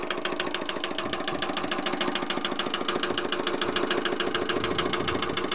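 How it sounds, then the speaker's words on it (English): A Lister LR diesel stationary engine idles after warming up, a steady close, loud mid-pitched chug with a continuous knocking rhythm and no other sounds. "Typical diesel engine."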